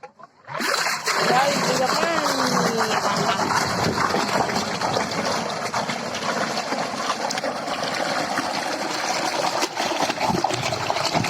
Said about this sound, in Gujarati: બધામાં પણ અત્યારે પાણી ભરાઈ ગયું છે ને હમણાં મોટર બંધ કરી દે છે.